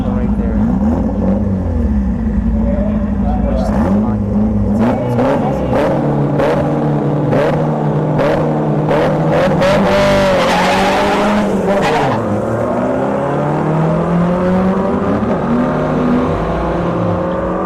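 At a drag strip street-heat event, a Trans Am Firebird and a Mitsubishi Mirage launch with screeching tires and roaring, revving engines. The sound is loud and sustained, with a track announcer talking over it.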